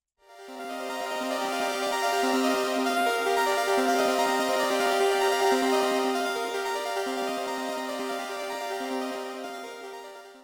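A looped piano passage plays alone, mellow sustained chords and melodic notes ringing together at moderate volume, fading slightly toward the end.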